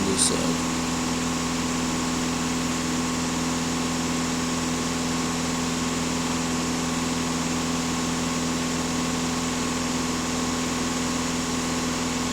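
A Skoda Kodiak 2.0 TDI diesel engine idles with a steady, even drone and constant low hum, heard close and unchanging throughout.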